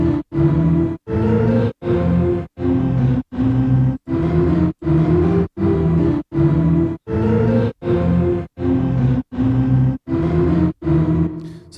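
Psychill synthesizer plugin, a rhythmic run of even, sustained tonal pulses about one per second with short gaps between, loud, close and alone, each block a rich buzzing chord-like tone.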